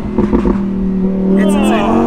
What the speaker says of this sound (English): how much longer are we gonna have stock cars where the stock exhaust sounds this good?